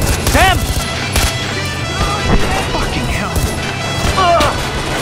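Rapid gunfire and crashing impacts in the Far Cry 4 video game, with sharp bursts scattered through the clip under excited talk and game music.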